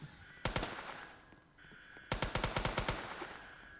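Automatic gunfire from an SCP gun in Roblox, two rapid bursts of sharp, evenly spaced shots, the first brief and the second longer, loud and close over a faint background hum.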